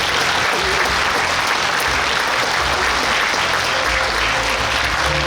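Steady, full applause from a large audience welcoming guests at a book launch event, continuous and evenly loud from start to finish with no voices over it.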